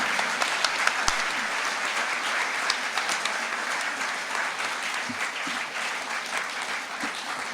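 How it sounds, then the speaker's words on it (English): Sustained applause from an audience at a speech honoring Burt Griffin at the Chautauqua Institution, dense and steady throughout with a few sharper individual claps standing out. "let's give a round of applause to the Honorable Burt Griffin"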